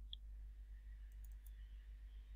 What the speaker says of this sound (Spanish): hago doble clic en cualquier parte